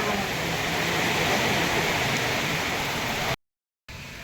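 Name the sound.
heavy rain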